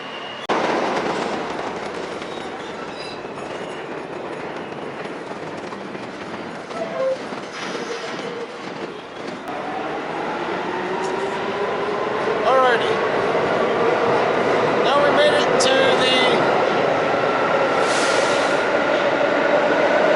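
A New York City subway train rumbles and clatters along the tracks with a steady roar, wheels squealing now and then, while a voice makes announcements over it.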